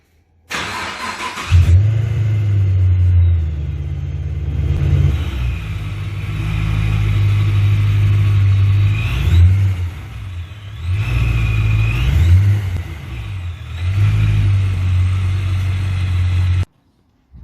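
A Procharged Camaro 1LE with a freshly repaired clutch drives under its own power, its supercharged engine a loud, steady low rumble that swells in several revving surges before cutting off.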